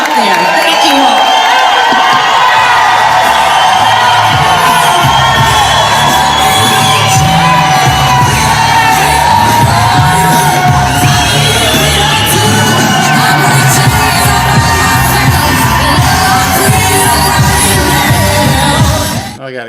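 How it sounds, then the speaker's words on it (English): A large, raucous crowd at a political rally cheering, whooping and yelling continuously for about twenty seconds, loud and dense, with music underneath, before the sound cuts off abruptly at the end. "That sounded like she had a raucous crowd and she gave a great speech"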